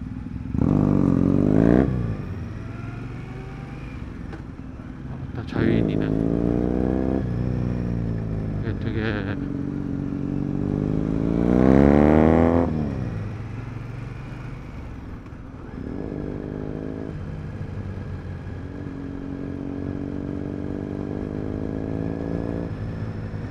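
An Indian motorcycle engine revs repeatedly through a stock-looking exhaust, loud throaty bursts rising and falling in pitch, with rumbling idle between each rev.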